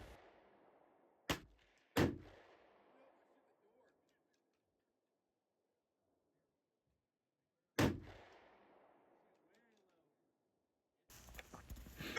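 Gunshots at an outdoor shooting range, a few loud close cracks spaced seconds apart, each trailing into a long echoing decay, with near silence between shots.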